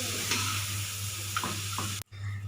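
Chili paste with crispy pork rinds stir-fried in a pan, a steady close sizzle with a few scraping spatula strokes, cut off by a brief drop near the end before the frying resumes.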